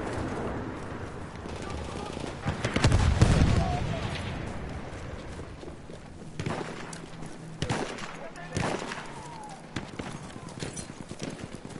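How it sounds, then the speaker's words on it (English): Gunfire in the Battlefield 1 Turning Tides DLC, a few sharp distant shots and bursts breaking through a busy battlefield din, with a heavier rumble early on and a player talking over it. "I hear gunfire over here."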